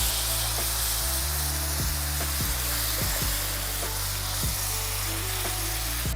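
Chicken broth poured into a hot pot of chicken and yellow rice, a loud continuous sizzle and hiss with bubbling and occasional stirring scrapes, close and steady throughout.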